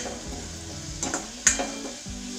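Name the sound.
sautéing onion and mixed-lentil filling in a pan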